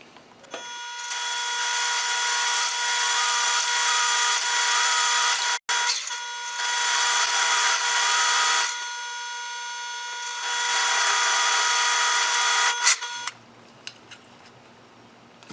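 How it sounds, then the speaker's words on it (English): A fresh stub drill boring into metal on a small benchtop machine, a loud steady high-pitched whine and grinding with a brief interruption midway, continuing for over twelve seconds before dropping to a low motor hum. "I've actually got a nice fresh stub drill for this 3164"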